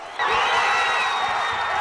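A large crowd in Rio de Janeiro erupts into loud, sustained cheering and whooping after the Olympic host city is announced, a dense roar starting abruptly and holding steady.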